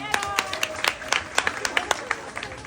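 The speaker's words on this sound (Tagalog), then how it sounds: "Wala po bang palakpakan dyan?" An audience claps at a Pride pageant's national costume show, sharp separate hand claps coming in an uneven, lively patter that stays moderately close and loud for the whole stretch.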